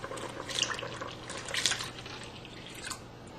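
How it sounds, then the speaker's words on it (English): Water poured into a pot of thickened rice, a close, soft splashing and dripping with a few brighter bursts over a steady low hum. "We'll add more water."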